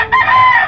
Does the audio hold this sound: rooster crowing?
yes